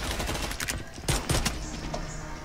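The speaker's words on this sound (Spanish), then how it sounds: "Marica, tiene una escopeta." Shotgun blasts ring out in the video game Sabotaj, a few sharp bursts amid a busy, noisy game mix, fairly quiet overall.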